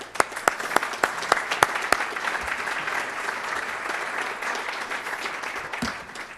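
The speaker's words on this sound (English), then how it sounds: "Let's give them all an applause." Audience applause at a talk, opening with a few loud, distinct claps close by over a broad crowd clapping that then settles into a steady, even wash.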